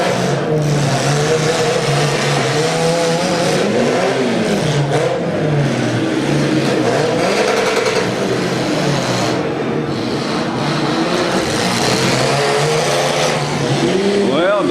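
Demolition derby cars at a county fair: engines roar and rev continuously, loud and close, with tires squealing and metal banging as cars crash, under a steady crowd and announcer din.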